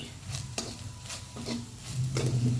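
Grated coconut stirred into hot oil over previously sautéed onion for a Marathi masvadi filling, a soft steady sizzle with a few sharp spatula scrapes against the pan, close and moderately loud, no talking.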